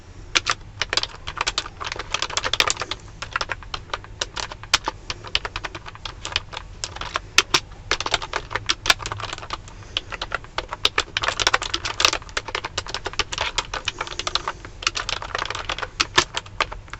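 Fast, continuous typing on a computer keyboard, crisp close-up key clatter in dense bursts with brief pauses, loud and alone without voices.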